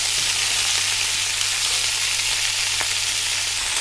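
A steady, close sizzle of winter vegetables frying in a pan, loud and continuous, with no one speaking.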